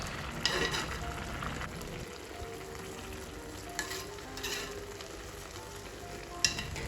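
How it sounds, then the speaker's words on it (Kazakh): Chicken pilaf on high heat as its water boils off, giving a steady bubbling sizzle with occasional stirring clicks and scrapes, fairly faint and without talk. "Отты қатты қоямыз да суы тартылғанша күтеміз."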